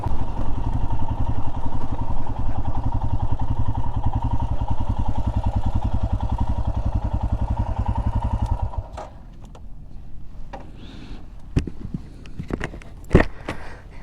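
Royal Enfield Himalayan motorcycle riding through the Arizona desert, a steady low engine drone with wind rush for about nine seconds, then the engine noise drops away, leaving quiet clicks and a few sharp knocks.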